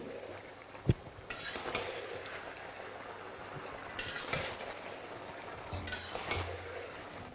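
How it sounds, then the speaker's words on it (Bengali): Mutton with Kashmiri chili powder and turmeric being stirred in a pan, with scraping and shuffling strokes over a low sizzle, a sharp knock at the start, steady and close. "আর মশলাটা দেওয়ার পরে এটাকে ভালো করে মিশিয়ে নিন।"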